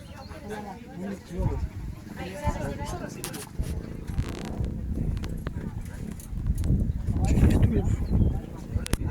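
A horse walking on a ranch, its hooves clip-clopping in an irregular rhythm close by, mixed with rustling and scraping, while people talk over it.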